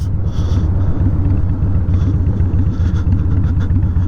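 A Harley-Davidson FXDX motorcycle with its lowering blocks removed rumbles along the road, a steady loud low engine drone with throaty pulsing and brief higher-pitched shifts, heard up close without talk.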